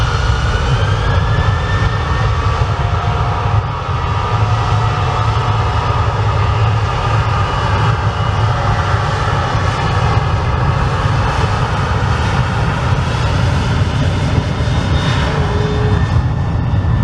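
An Airbus A330 jet roars steadily through a go-around, its loud engine noise broad and continuous, a sustained rumbling whine with no voices over it.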